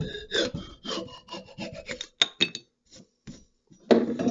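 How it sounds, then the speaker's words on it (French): A small hand saw cuts off the excess wedge on a maple axe handle, a series of quick rasping back-and-forth strokes, close and fairly quiet, pausing briefly before a final few strokes. "je prends juste une petite scie, je fais un tourner comme ça, je vais couper l'excédent"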